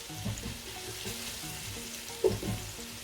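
Fish salan, a fish curry, fries in a pan, a soft steady sizzle with a couple of louder spattering bursts and light stirring sounds, fairly close.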